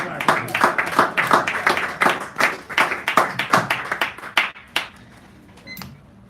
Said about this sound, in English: Now, Rob, give him a round of applause.